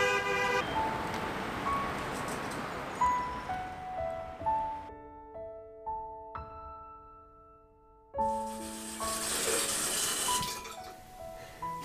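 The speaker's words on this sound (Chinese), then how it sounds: "你看大街上这车来车往，人来人往的太多了" Busy Beijing street before dawn, with cars passing and several car horns sounding in sustained toots over a constant wash of traffic noise.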